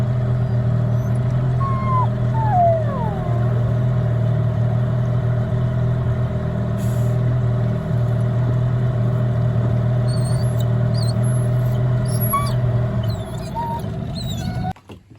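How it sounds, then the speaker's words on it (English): Chutney, a dog at the head of a small inlet on the Pacific coast, gives a few high, wavering whines over a constant low mechanical drone. "Chutney's whining, of course, because he wants us to throw the stick"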